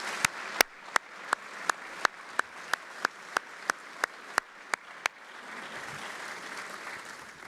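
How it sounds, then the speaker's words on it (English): An audience applauds award recipients at a defense forum, a soft wash of clapping with a series of loud, sharp isolated claps standing out in a steady rhythm for about five seconds before only the diffuse clapping remains. "please join me in another round of applause for our special recipients"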